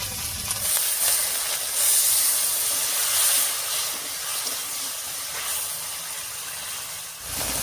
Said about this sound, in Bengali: এবার একটু আমি মশলা বাটা জল দিয়ে কষিয়ে নেব।